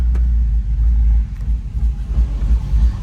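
A 1998 Chevy OBS truck engine running during a test drive, a deep steady low rumble heard from inside the cab, loud and close with slight surges.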